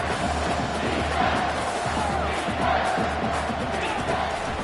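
A huge stadium crowd at a Michigan football game roars steadily through a big third-down play, a dense, loud, unbroken wall of cheering with no clear individual voices.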